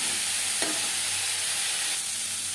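Green mango pieces fry lightly in a pan, a steady, close, hissing sizzle with a brief stir partway through.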